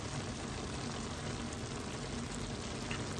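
A steady pour of soy sauce into a pot, a continuous soft rushing wash with a faint low sizzle underneath, close and even throughout.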